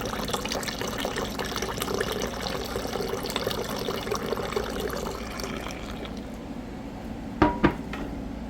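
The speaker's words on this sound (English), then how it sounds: "Add in some pineapple juice." Pineapple juice poured into a bowl of fall punch, a steady gushing liquid stream running several seconds alone before trailing off, followed by a couple of brief clinks near the end.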